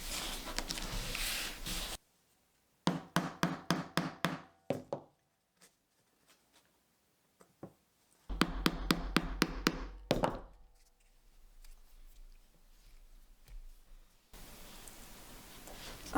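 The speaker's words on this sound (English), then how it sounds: "I attach the leaves to the stems with rivets." Rivets being set to fasten leather leaves onto stems for bookmarks, two bursts of sharp rhythmic tapping blows, about half a dozen strikes each, separated by quiet pauses.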